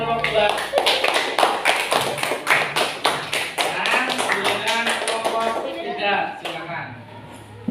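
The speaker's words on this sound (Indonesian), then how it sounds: "Tepuk tangan buat kelompok 2" A classroom of students claps for a group, with sharp, rhythmic hand claps in a patterned beat and voices calling out along with them, then tapering off near the end.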